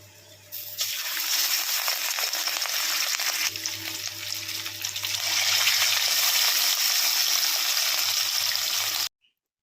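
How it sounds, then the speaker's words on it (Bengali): Four pieces of fish rubbed with salt and turmeric fry in hot oil with a loud, continuous close-up sizzle that runs steadily, then cuts off abruptly at the end. "এই যে চার পিস মাছ নুন হলুদ মাখিয়ে রেখেছি এটাকে ভালো করে ভেজে নেব"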